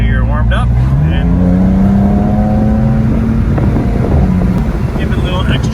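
A 2015 BMW M4 with the S55 engine drives along, its engine note rising and falling steadily under heavy wind buffeting at the microphone, loud and close from inside or near the car.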